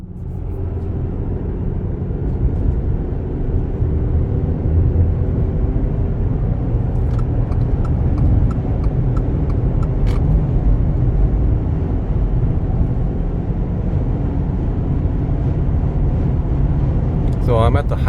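Freeway drive in a Subaru on Mickey Thompson Baja Boss AT all-terrain tires, with a steady, loud low rumble of road and wind noise inside the cabin and faint clicks partway through.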